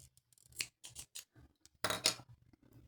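Scissors snipping crochet yarn, several quick close metallic snips and blade clicks with short pauses between them, ending in one louder cut, no talking.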